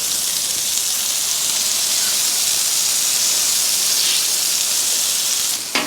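A smash burger sizzles on a hot griddle with a loud, steady, broadband hiss that fills the whole stretch and cuts off abruptly at the end.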